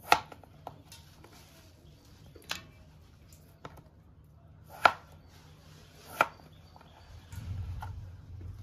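A knife cutting potatoes on a board, with a handful of sharp, separate chops spread irregularly across a quiet kitchen, close and without talking.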